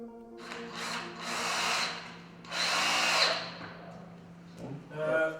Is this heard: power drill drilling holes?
yes